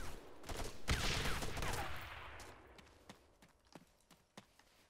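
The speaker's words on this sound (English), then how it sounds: "Quite a few shots coming inbound." Gunfire in the ArmA 3 military game: a loud volley of shots near the start gives way to scattered, sharper single cracks and pops at varying distances, with no talking.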